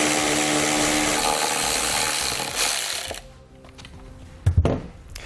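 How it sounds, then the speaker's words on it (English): A power driver with a T25 Torx bit runs loudly for about three seconds while pulling fasteners behind a truck taillight, then stops, followed by a few sharp clicks and knocks. "So we can grab a T25 Torx bit and we'll pull those two fasteners out."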